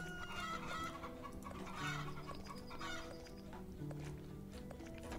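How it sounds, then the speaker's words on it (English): A rooster clucks in the farming strategy game Hearthlands near an aviary, giving repeated short clucks over a soft, steady game ambience with faint tonal background music. "One rooster."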